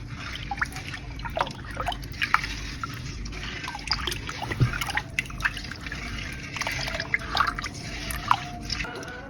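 A pudding mixture made with UHT milk is stirred, giving a steady, close wet sloshing with small drips and squishes throughout, no talk.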